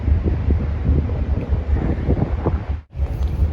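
Strong wind buffets the microphone at Kusadasi port in Turkey, beside a docked cruise ship. The gusty, continuous low roar briefly cuts out and drops away near the end before returning.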